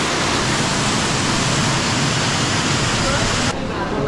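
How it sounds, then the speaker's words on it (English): An indoor waterfall at a large thermal spa gives off a dense, even rush of falling water. The sound is loud and close, a steady hiss-like wash with no breaks that softens slightly near the end. "Look at this waterfall."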